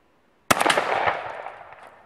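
A single sharp gunshot fired at a soda bottle 35 metres away cracks loudly after a brief silence, then trails into a long, fading echo across the open space.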